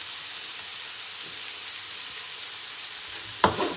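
Chopped capsicum, beans and deseeded green chilli being stirred in a hot pan for egg fried rice, a steady close sizzle and hiss with a brief scrape of the spoon near the end.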